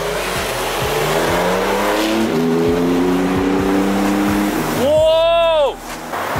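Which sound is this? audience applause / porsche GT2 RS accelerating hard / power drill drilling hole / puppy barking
porsche GT2 RS accelerating hard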